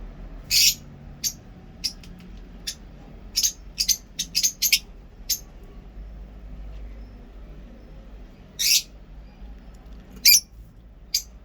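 Baby birds in a nest box give short, sharp, high-pitched cheeps in scattered bursts, some doubled, over a quiet, faintly humming background.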